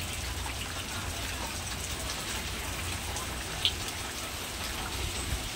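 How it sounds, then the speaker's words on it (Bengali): Steady rain pours down during a storm in a dense, even hiss with no break, faint and distant-sounding, with one brief sharp tick partway through. "সমানে বৃষ্টি জোরে পড়ছে"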